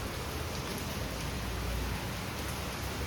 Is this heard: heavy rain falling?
yes